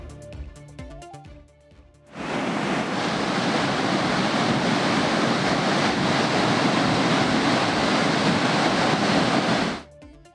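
Courtallam main falls in heavy flood, a loud, dense roar of rushing water that bursts in after a quieter opening and holds steady and close for about eight seconds before cutting off.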